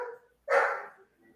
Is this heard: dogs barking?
yes